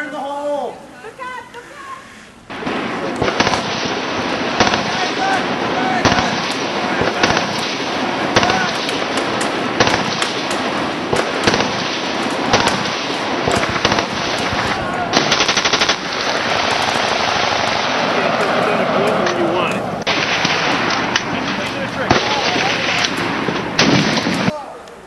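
Rapid machine-gun bursts and gunfire crackle almost continuously, with heavier explosive thuds mixed in, as U.S. soldiers fight on Iwo Jima in World War II combat; a voice shouts briefly.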